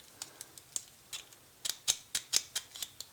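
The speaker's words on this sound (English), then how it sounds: "Just take your knife in between the plastic and the die cast" A knife pries the plastic interior out of a DCP Kenworth T800 die-cast model truck, making a run of sharp, close plastic clicks and snaps in an uneven rhythm that grows louder toward the end.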